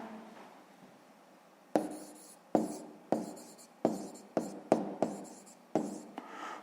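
Pen writing a sixth-grade math exercise by hand on paper, a series of about ten sharp scratchy strokes at an uneven rhythm, close and quiet.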